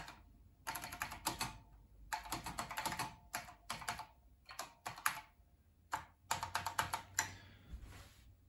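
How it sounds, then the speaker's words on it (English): Typing on the keyboard of a repaired Kaypro 4 computer, crisp close-up clacking keystrokes in quick irregular bursts separated by short pauses. "now I can type on the keyboard"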